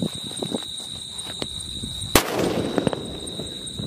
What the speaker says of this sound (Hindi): तो भाई लोग अब जलाने वाले मिर्ची बम को, इसको जला के देखते कैसे चलता है।